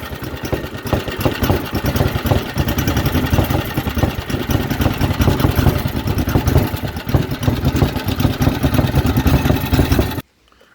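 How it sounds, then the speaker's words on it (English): A Briggs and Stratton small engine, freshly carburetor-tuned, runs steadily and loudly up close with a rough, knocking idle for about ten seconds, then cuts off abruptly. "I just tuned the carburetor so it does run a little better"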